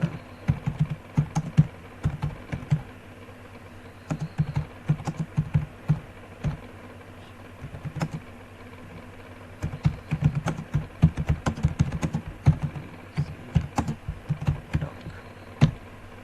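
Sentence being typed on a computer keyboard in a lesson on digital documentation: bursts of quick, close clicks with short pauses between runs, over a steady low hum.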